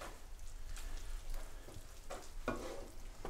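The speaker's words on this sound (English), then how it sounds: "So in that goes, I'm going to stir that in like that" An ingredient being stirred into a pasta sauce in a pan, faint soft sizzling with a few quiet scraping and clinking strokes from the spoon.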